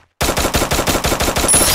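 Rapid automatic gunfire in the Free Fire game bursts in after a moment of silence as a loud, close, evenly spaced stream of about nine shots.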